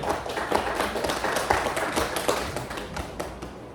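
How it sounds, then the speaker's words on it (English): An audience applauds Dr. Michael Xie as he is welcomed on stage, a short burst of clapping with distinct individual claps standing out, fairly close and without talk. "please give a big hand, your big applause to Dr. Xie"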